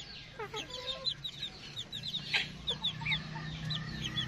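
Two hens and a young pullet cluck softly in quick, repeated bursts, close but quiet, with a low background hum under the chatter.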